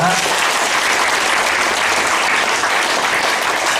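A room full of people at a Catholic academy closing ceremony claps continuously, a loud, even wash of applause with no voices standing out.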